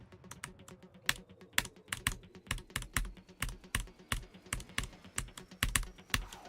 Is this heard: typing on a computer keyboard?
yes